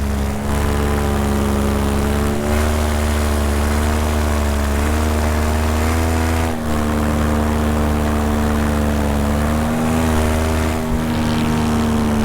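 An ultralight trike engine drones steadily at cruise power in flight, a loud continuous buzz with a strong low hum that stays even throughout, briefly dipping a few times.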